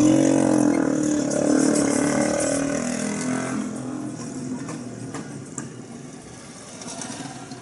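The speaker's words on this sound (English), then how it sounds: "those are the buses that operate, they operate from Kawangware now to city center." Road traffic with buses on a street in Kawangware, Nairobi: a broad engine rumble passes close by and gradually fades into a steady distant hum, with faint street noise.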